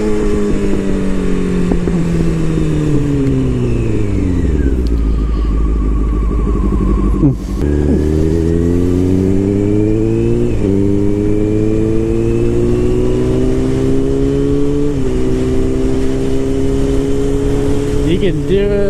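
A vehicle engine on a group ride revs up and drops pitch as it shifts through gears, loud and close, with several rising and falling sweeps; people talk over it.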